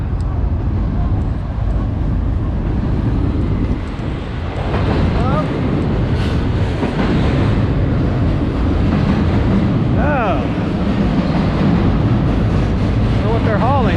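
A freight train hauling what look like garbage cars rumbles past loudly and continuously, with occasional higher squeals from the wheels over the steady roar.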